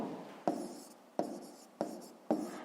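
Numbers are written for a fifth-grade maths exercise. A pen or chalk strikes a surface four times, evenly spaced, each a crisp tap followed by a short scratchy stroke. It is quiet and close, with no voices.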